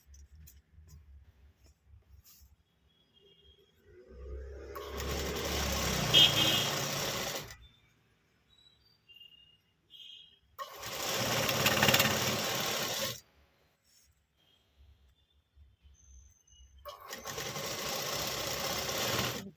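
A sewing machine stitches a fall onto a saree in three separate runs, each lasting a few seconds, with quiet pauses between them.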